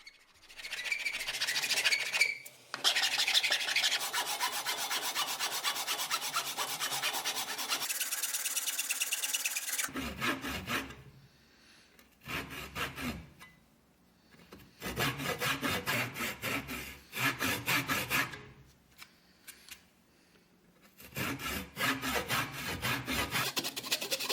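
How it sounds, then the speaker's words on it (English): Rhythmic rasping of a file on the neck of a 50-year-old ball peen hammer's wooden handle: long continuous strokes, then several short bursts separated by pauses, close and fairly loud. "It doesn't need an awful lot of filing down, but it needs some work on the neck."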